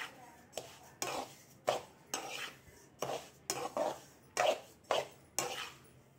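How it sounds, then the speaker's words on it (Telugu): Sesame seeds being dry-roasted in a pan, a spatula scraping and clinking against the metal in a steady run of about a dozen evenly spaced strokes, close and fairly loud, with no talk. "కేజీ ఉసిరికాయలకి పావు కేజీ నువ్వులు తీసుకుని జాగ్రత్తగా దోరగా వేయించేద్దాం."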